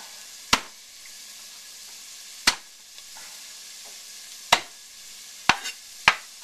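Half a cup of onion fries in olive oil in a pan, giving a steady, soft sizzle throughout, broken by a few sharp, isolated clicks and pops.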